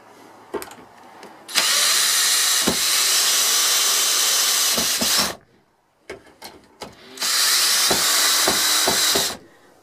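A power drill drives screws into a shed frame, whining in two long sustained bursts separated by a pause, with short clicks and knocks from handling the timber between runs and no voices.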